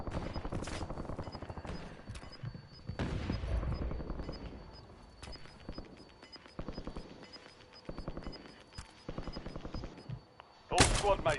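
Video game gunfire crackles in bursts of single shots and rapid automatic fire, some sharp and close, others duller and farther off, with a loud burst near the end and a few voices between the volleys.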